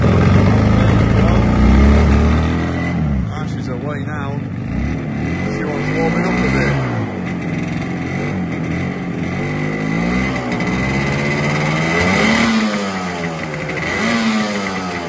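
A 1980 Yamaha RD 250 two-stroke motorcycle engine runs steadily close by, its pitch rising and falling with light revs throughout, while someone talks over it.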